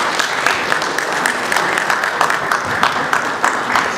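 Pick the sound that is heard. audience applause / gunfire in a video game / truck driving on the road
audience applause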